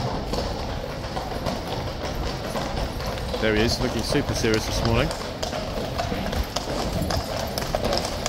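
Horses of the Blues and Royals clip-clop across a parade ground, a steady run of hoof beats close by, heard under almost continuous talk.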